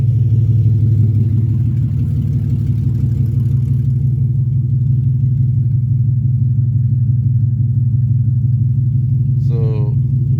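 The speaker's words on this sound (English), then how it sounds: "you can hear from the distance she's already idling at the normal sound" A steady, low engine idle from an Acura Legend six-speed with an open race header rumbles evenly for the whole stretch without revving, with a brief faint chirp near the end.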